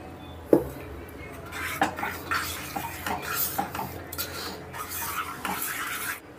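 A spoon scrapes and clinks against a metal pot while gongura dal mixture is stirred and water is added, giving irregular metallic knocks and rasping strokes at a moderate, fairly close level.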